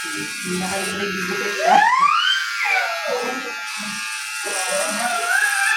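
Electric shaver buzzing steadily in a home while cutting hair, a close, continuous drone with rising whine-like sweeps, heard alongside people talking.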